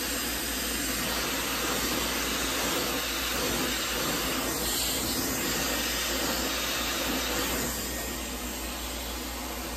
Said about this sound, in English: I'm hitting it with the blow dryer